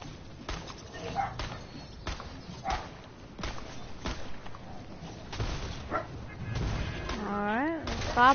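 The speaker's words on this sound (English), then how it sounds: "Stop barking, bro" A dog named Sosha barks in sharp, repeated bursts indoors among people talking, then ends in high, wavering whines and yelps.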